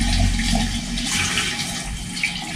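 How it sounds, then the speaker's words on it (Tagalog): Water pours steadily into an electric kettle, a continuous splashing rush that runs the whole stretch, close and fairly loud, with no one talking. "Lagay ko po itong tubig na to."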